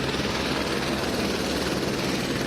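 A helicopter at a police scene on Stella Link Road in Houston, Texas, gives off a loud, close, steady roar of rotor and engine noise that fills the whole stretch without a break.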